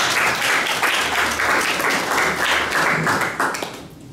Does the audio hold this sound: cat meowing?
no